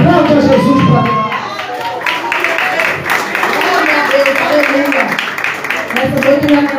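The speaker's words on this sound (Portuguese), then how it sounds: "aplaude a Jesus para mim" A church congregation at a communion service claps and cheers, with excited shouting voices mixed in; the noise swells and dips unevenly, with bursts of crowd vocalizing over the clapping.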